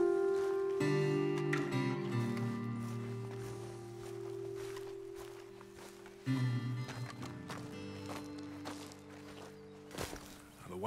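Horses' hooves clip-clop on the ground in Red Dead Redemption 2, soft, fairly close steps under music and brief talk.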